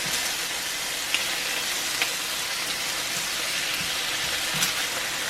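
Bacon sizzles and spits steadily in a cast iron skillet, a dense continuous crackle with a few sharper pops rising out of it, and no talking over it.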